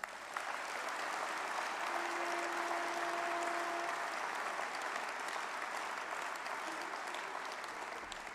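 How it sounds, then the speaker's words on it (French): Sustained, even applause fills the hall at the closing of the 2024 FNSEA farmers' union congress, a large audience clapping steadily for over eight seconds with a faint tone briefly underneath. "Je vous propose de les applaudir encore une fois."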